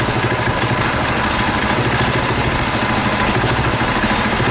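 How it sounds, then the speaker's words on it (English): A steady, throaty modified KT196 go-kart engine rumbles loud and unbroken throughout through a dual exhaust, with a low pulsing exhaust note and no voices. "Still have our advantage of the dual exhaust rumble, so that's good."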